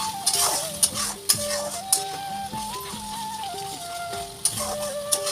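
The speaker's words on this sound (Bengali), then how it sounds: "তারপরে দেখো সব কিছু দেওয়ার পর ভালোভাবে নেড়ে নেবো।" Spices, salt and turmeric are stirred in hot oil in a cooking pan, with repeated scraping strokes of a utensil over a soft, steady sizzle.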